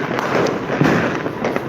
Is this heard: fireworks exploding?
yes